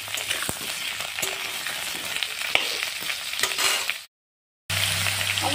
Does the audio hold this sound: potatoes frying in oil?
yes